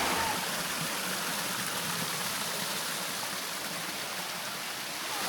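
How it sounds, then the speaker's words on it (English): Klong Nonsi Waterfall on Koh Chang, Thailand, pours in a steady, dense broadband rush, loud and close, with no break or talk across the whole stretch. "Thumbs up for Klong Nonsi Waterfall."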